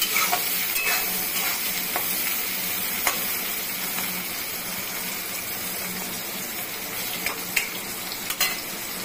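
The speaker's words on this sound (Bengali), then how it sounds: "এই যে এই অবস্থায় আপনারা টমেটো দিয়ে দিবেন, জাস্ট একটু ভাজবেন পেঁয়াজটাকে।" Onion and tomato frying in a pan for a potol (pointed gourd) curry, with steady close sizzling and occasional scraping knocks of a spoon stirring through the ingredients, no voices.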